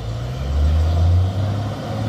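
A heavy truck engine idles steadily nearby on a rough, rocky road, a deep low rumble that swells slightly in the middle before settling back.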